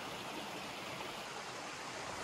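A stream flowing past a hiking camp spot, heard as a steady, dense broadband rush of moving water, continuous and fairly close, with no voices.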